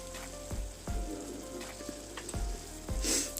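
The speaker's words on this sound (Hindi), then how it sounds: "तो इसको मैंने फिर एक 2 मिनट के लिए गैस पे रख दिया है ताकि सारे मसाले फलियों में अच्छे से मिक्स हो जाएं" Green beans cooking with spices in a pan on a gas stove, a steady soft sizzle with a few clanking stirs and taps of a spoon against the pan, close by.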